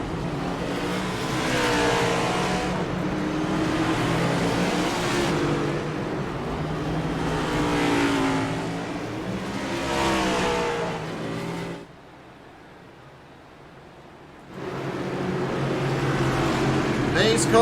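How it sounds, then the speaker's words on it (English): Race cars running slowly in formation behind a pace car at Richmond ahead of the green flag, a steady engine drone under continuous commentary, dropping away briefly before returning. "Pace car leading him around."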